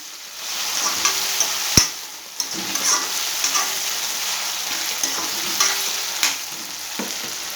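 Tomatoes frying in about five spoons of oil with no water, a steady close sizzle broken by scraping stirs and a sharp clank of a spoon against the pan, no talking.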